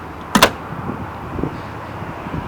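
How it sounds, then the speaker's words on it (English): One solid, tight clunk as a 1941 Chevy Master Deluxe Coupe door is shut, a single sharp close followed by quiet background with faint shuffling. "Now listen to this door close. Listen to how tight this car is."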